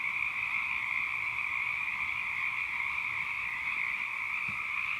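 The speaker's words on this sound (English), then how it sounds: "Can you guys hear these frogs?" A steady chorus of frogs croaking continuously at night, a dense shrill trilling that stays constant throughout, moderately loud with no speech.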